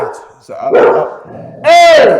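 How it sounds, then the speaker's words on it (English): A pet dog barks twice, loud and close, with a short gap between the barks. A voice calls out once between them. "So that's my dog"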